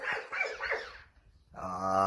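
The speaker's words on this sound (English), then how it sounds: "See, we made her woof woof." A dog gives a few short barks and yips, close and moderately loud, followed by a brief high whine.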